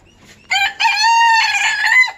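A rooster crows loudly and close by in a farmyard, a two-part call with a short opening note and then a long sustained cock-a-doodle-doo, heard alone without talk.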